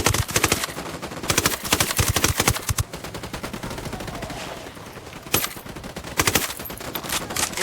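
Gunfire in the tactical shooter Ghost Recon, with rapid bursts of automatic fire and single shots packed closely together, loud and near, broken by short pauses before more volleys.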